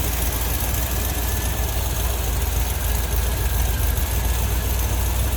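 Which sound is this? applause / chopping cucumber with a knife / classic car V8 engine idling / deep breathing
classic car V8 engine idling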